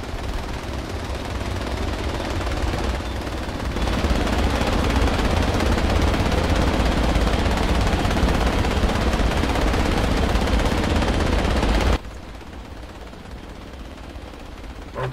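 Sustained, loud automatic gunfire rattles nonstop for about twelve seconds in the military shooter Project Reality during an Insurgency mode battle, then cuts off abruptly to a quieter background.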